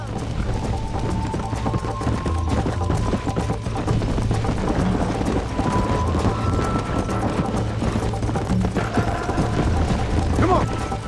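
Galloping horse hooves in Red Dead Redemption drum in a fast, steady rhythm close by, mixed with game background sounds, while voices talk over them.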